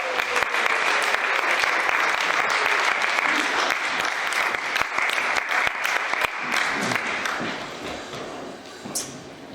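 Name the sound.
audience applauding speaker Darpan's welcome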